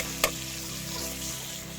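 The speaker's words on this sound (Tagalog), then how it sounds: "Gigisahin muna natin yan." Black and white beans sautéing in a pan give a steady, close sizzle and hiss, with one sharp clatter from a utensil early on before the frying carries on evenly.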